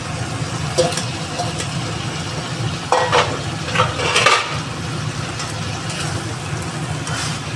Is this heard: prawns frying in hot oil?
yes